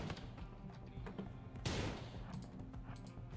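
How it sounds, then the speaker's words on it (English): Gunfire in the colony video game Rimworld crackles in a rapid volley of small pops, peaking in a sharper burst around the middle, quiet and steady throughout. "please start shooting at him"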